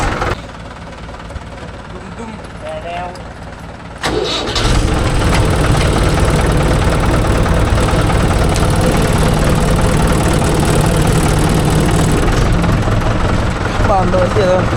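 A Mahindra Yuvo Tech Plus 585 4WD shuttle-gear tractor engine drones steadily at idle, then revs up sharply around four seconds and holds a loud, heavy, rumbling run to the end, with a voice briefly heard early on.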